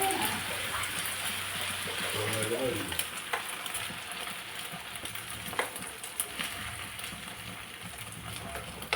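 Egg and potato mixture for a Spanish omelette poured into an oiled pan, giving a steady broadband sizzle that stays moderately loud and continuous, with a brief lower pouring sound near the start.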